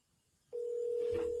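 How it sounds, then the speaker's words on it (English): An outgoing phone call makes a steady, loud ringback tone that starts abruptly after a short quiet stretch and holds through to the end, with faint background noise beneath it. "Let me see if he answers his phone if I call him."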